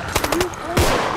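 Assault rifle fire in the zombie shooter Contagion: a few rapid shots in a short burst, then a heavier blast, set against game ambience with a voice faintly present.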